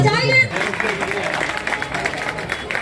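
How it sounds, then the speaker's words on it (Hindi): Crowd applause at a Hindi political gathering for an independent candidate in Shahdara, Delhi, a steady sustained clapping after a brief voice at the start. "बजाइए जोरदार ताली"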